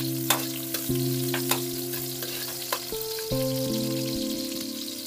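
Onion and garlic sautéing in hot oil for a Filipino clam soup with lemongrass, a steady frying hiss with soft stirring knocks, close and moderately loud, no talk.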